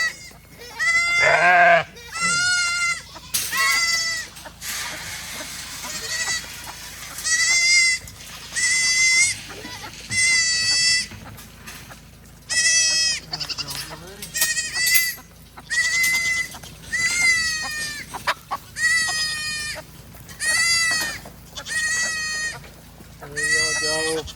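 Baby goats bleat again and again for their mothers on a farm, loud and close, a dozen or more quavering cries in irregular bursts with short quiet gaps between them.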